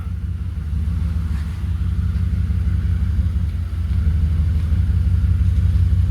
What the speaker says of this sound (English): it's actually pretty quiet for it having the back half missing out of it, the back half of the exhaust